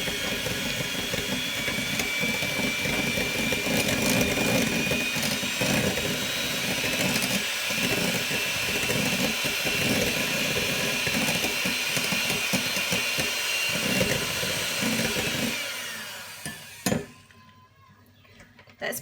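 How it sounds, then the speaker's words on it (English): An electric hand mixer creams egg, sugar and butter for pumpkin scones, a steady close whirring drone that runs for about fifteen seconds before switching off and leaving near silence. "just grab your mixer."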